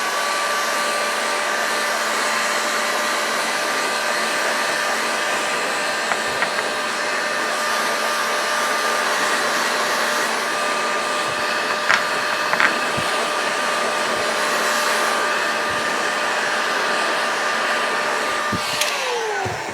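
A handheld heater warms the crankcase of an OS 32F-HX model engine before a bearing is fitted. It gives a loud, steady blowing whine with a constant tone, then cuts off near the end.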